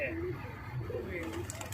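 A pigeon or dove coos softly at a bird competition, with a busy crowd murmuring and people talking over it.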